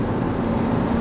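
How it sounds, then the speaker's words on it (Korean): A 120-horsepower Peugeot 3008 SUV engine accelerating in sport mode drones steadily up close, a low, even hum with a firm tone underneath and no voices. "자, 엔진 소리가 좀 더 들리죠."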